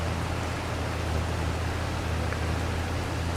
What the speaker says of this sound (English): we will wait out the rain shower